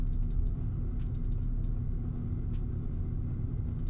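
Computer keyboard typing comes in quick bursts of clicky keystrokes with pauses between them, set back slightly from the microphone over a steady low hum.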